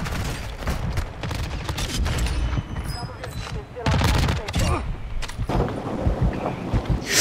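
Sniper rifle fire in Warzone 2 rings out amid a dense firefight, with loud overlapping shots and heavy booms crowding a constant clamor of battle noise.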